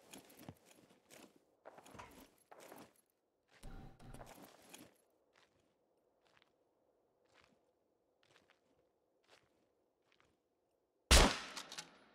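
Scattered shots in the survival game SCUM: a handful of sharp single cracks spread across the stretch, with one louder close blast near the end and quiet gaps between them.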